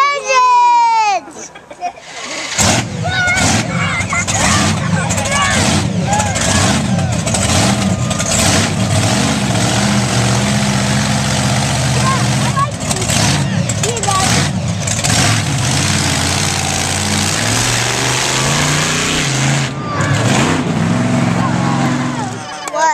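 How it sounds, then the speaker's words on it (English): Monster truck engines rumble to life and rev repeatedly at a Monster Jam event, loud and close, amid excited children's voices and talk throughout. "Start your engines"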